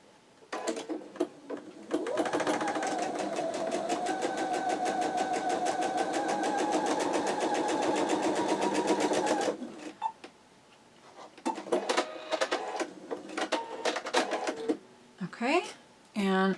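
A sewing machine stitching the tail portion of a calico cats quilt block runs in a long steady whirring burst, then gives shorter start-stop runs with clicks and handling noise nearby.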